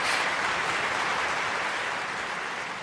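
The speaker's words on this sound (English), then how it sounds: "More applause, more applause." Studio audience applause, a dense continuous wash of clapping from a crowd, fairly loud and even throughout with no talking over it.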